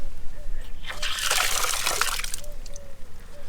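Water runs from an outdoor tap by St. Peter's church near Southease, a gushing spill of about a second and a half that swells and fades over steady outdoor background noise.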